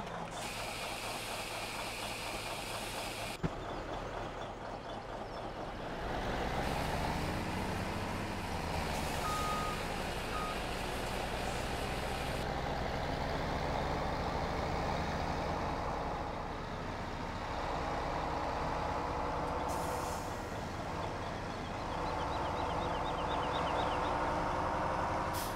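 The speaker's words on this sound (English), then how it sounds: "This truck's really loud backing up." In Farming Simulator 17, a truck reverses with a loud, repetitive backup beeper chirping at a steady rhythm over a rumbling engine, with mechanical clunks and air-brake hisses.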